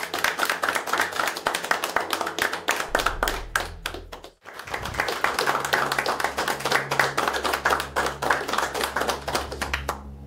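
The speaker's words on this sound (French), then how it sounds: "Mesdames et messieurs, on peut les applaudir très fort." An audience at a live stage show claps loudly and continuously, with a short gap partway through before the applause picks up again at full strength.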